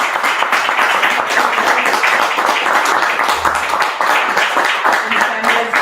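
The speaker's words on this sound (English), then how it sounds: "let's give them a round of applause" Sustained applause from a crowd after a panel discussion, dense clapping filling the room at a steady loudness throughout, with a faint murmur of voices underneath.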